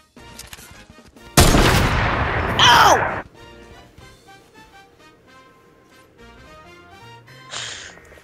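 Video game gunfire in a one-on-one match: a loud, dense burst of shots lasting about two seconds, then quieter game sounds and a brief later crackle.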